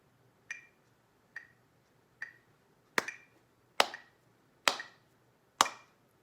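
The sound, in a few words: hands clapping a rhythm exercise with metronome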